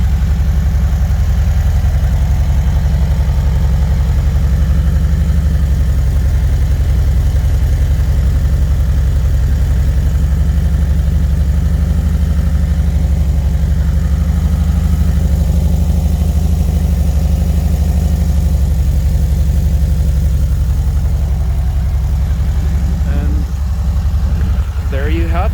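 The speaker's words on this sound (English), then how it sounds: "There's the Vanagon with its muffler, new muffler system." A VW Vanagon Carat idles outdoors with a new Magnaflow exhaust, a loud, steady low burble with an even pulsing rhythm that holds throughout, with brief handling noise near the end.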